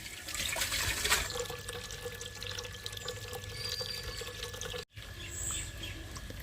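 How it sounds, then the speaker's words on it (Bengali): Water from a tap fed by a motor pump gushes steadily and close by at home, with a constant low pump hum underneath and a brief cut near the end. "ঘুরিয়ে দিলাম যে এখন জল আসবে"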